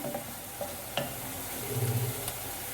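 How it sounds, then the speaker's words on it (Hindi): Onions fry and brown in a pan for Punjabi-style kadhi pakora, a steady, close sizzle with a few light clinks and scrapes of stirring on top. "ये देखें, प्याज ब्राउन होना स्टार्ट हो गए हैं।"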